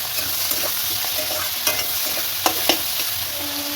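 Ground spices with cumin powder and coriander leaves are stirred in a sizzling pan for a rohu fish curry with winter vegetables, a soft frying hiss punctuated by a few scraping strokes and clicks of the spoon.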